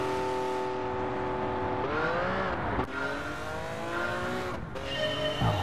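Porsche 917K race car engine in Gran Turismo 7, a loud, sustained engine drone with pitch sweeps as it revs and shifts, brief dips near mid-clip, and a faint tyre squeal, with no talking.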